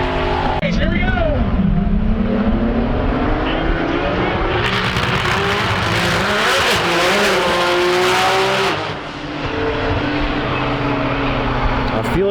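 A twin-turbo Dodge Viper drag races at TX2K21, its engine roaring loud and close with rising gear-change sweeps and a sharp wall of noise mid-run, while people talk over it.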